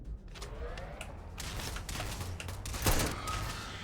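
Rapid, repeated gunshots in Starfield during a spaceport attack, a quick rattling volley of sharp cracks at moderate volume with a heavier blast near the end and no talking over it.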